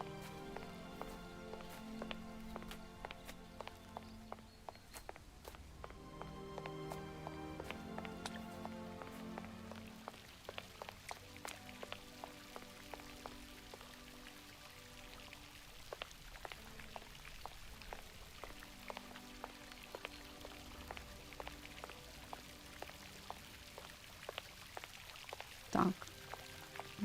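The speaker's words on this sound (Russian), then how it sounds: "Звук воды, вот это фонтана." Water fountain in the video game Syberia Remastered, a soft continuous splashing and pouring of water with light droplet patter, faint and steady throughout, with quiet music-like tones in the background.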